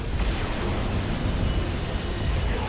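Dense, continuous rumble of rocket explosions and blasts in Halo: Reach, loud and sustained with no pauses, like a barrage of rockets going off nearby.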